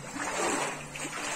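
Someone wades through knee-deep floodwater in a flooded street of Jardim Brasil, Belford Roxo, with a brief, soft churning splash close by that carries on steadily for a moment.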